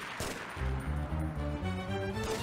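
Rapid bursts of gunfire from The Getaway video game, loud and close, with repeated shots firing in quick succession and no talking.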